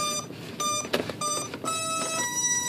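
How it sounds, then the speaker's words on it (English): Electronic speed controllers in a large RC Airbus A380 model chime as they initialise, a dense overlapping series of short electronic tones and beeps from many units at once, close and clear with no talking. "I love the noise of all those ESCs initiating."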